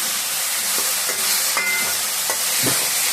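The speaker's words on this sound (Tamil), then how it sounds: "இந்த வெண்டைக்காய் வந்து நல்லா ஒரு 5 நிமிஷம் நல்லா வதங்கணும்" Okra sautéing in a pan with turmeric for an egg kuzhambu, a close, steady frying sizzle and hiss with occasional soft stirring scrapes and no talking.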